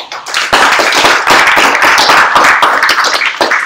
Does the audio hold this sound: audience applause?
yes